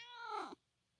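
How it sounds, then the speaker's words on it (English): A single close cat meow, drawn out and falling in pitch, ending abruptly into near silence. "Hi, kitty. My cat wants me out."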